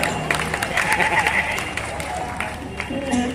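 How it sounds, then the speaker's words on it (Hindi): Audience applause at an all-India Hindi poetry recital (kavi sammelan) in Guna, Madhya Pradesh, a steady continuous clapping crowd filling the hall, with a voice talking over it. "आप ताली बजा रहे हो"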